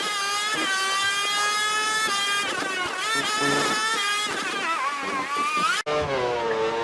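Two Ferrari Formula One cars accelerate hard out of a hairpin at San Marino, their high-pitched engines rising and shifting through gears in a loud, continuous scream, close by, with a brief dropout near the end.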